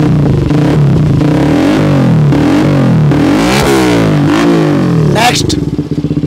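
A Hero Xtreme 125R motorcycle fitted with an aftermarket exhaust revs hard and close, its loud engine note rising and falling through several throttle blips before easing off at the end.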